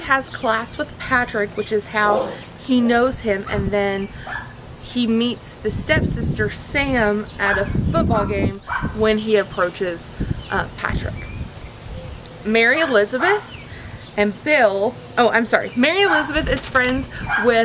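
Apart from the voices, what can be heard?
neighbors' dogs barking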